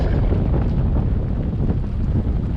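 Strong storm wind gusting over a sailboat at sea with the engine throttled down, a loud continuous roar and buffeting against the microphone with no voices.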